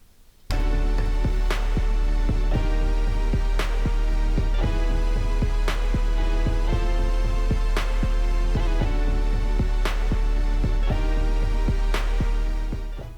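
Electronic dance music from a Denon MC-7000 DJ controller with its pitch shifting effect applied, a steady loud four-on-the-floor kick and sustained synth tones playing continuously, close and alone.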